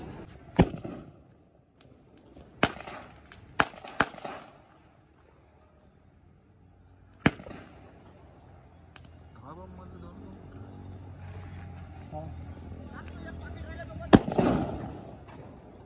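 Firecracker bombs burst outdoors in a string of sharp, loud bangs spaced a few seconds apart, over a low background hum, with people talking nearby.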